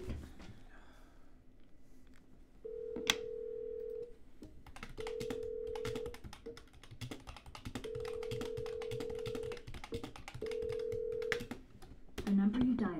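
A telephone call setup plays several short steady tones in sequence, each about a second long with brief gaps, over faint clicks and keyboard-like taps, followed by a brief burst at the end.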